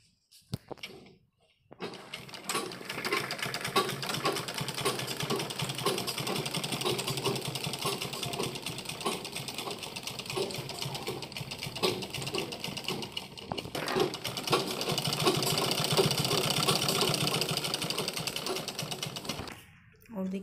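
A sewing machine stitches the back neckline of a kurti, a fast, continuous mechanical rattle running for most of the stretch after a short pause, steady and close.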